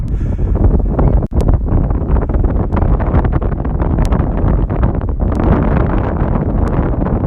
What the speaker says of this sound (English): It's actually kind of windy, so let's go home.